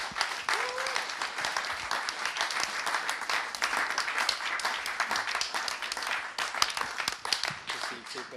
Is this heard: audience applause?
yes